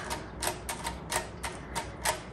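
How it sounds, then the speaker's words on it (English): A 1940 Royal Varsity manual typewriter clacks as its backspace key is pressed repeatedly, giving about seven crisp, close mechanical knocks at a steady, unhurried pace with no talking. "Here is a backspace."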